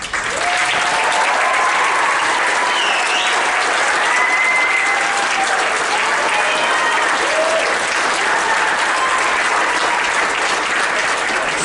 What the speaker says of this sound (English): will you stand up so we can clap for you?